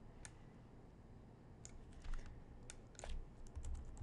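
Keyboard shortcuts tapped on a computer keyboard while working in CAD software, heard as a few sparse, quiet clicks and short clusters of keystrokes over a soft background hum, with no one talking.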